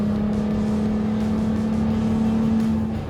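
A Jeep Gladiator with a snorkel and upgraded exhaust idles close by, a loud steady low rumble with a constant droning tone, holding even for about three seconds.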